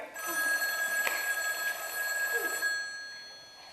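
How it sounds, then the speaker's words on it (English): A telephone bell rings in a room, one clear, fairly faint trilling ring lasting about three seconds before trailing off, heard alone with no talking. "The phone's ringing."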